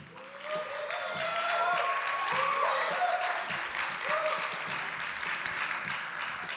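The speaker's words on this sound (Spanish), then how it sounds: "recibamos con un fuerte aplauso a Rodrigo Cornejo" An audience welcomes a speaker with applause at a public forum, sustained clapping that swells and holds steady, partly under a voice talking and a brief ringing tone.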